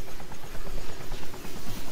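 Helicopter in the DayZ Epoch game on the Chernarus map, its rotor thudding in a steady, close, loud chop that runs the whole time with a broad engine roar beneath.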